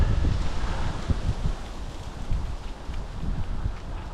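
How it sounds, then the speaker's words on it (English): Wind gusting through channels between high-rise city buildings, a steady broadband rush with low rumbling buffets against the microphone, rising and easing slightly over a few seconds without talk. "If you're among the high-rise buildings, the wind finds the channels to escape."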